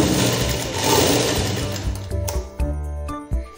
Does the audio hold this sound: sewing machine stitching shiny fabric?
yes